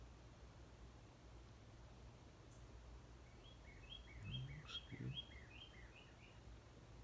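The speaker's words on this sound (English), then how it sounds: "Birds out there in the yard." Birds call in a yard beside a workshop, a scatter of faint, distant chirps over steady low background hum, with a brief louder burst partway through and no talking.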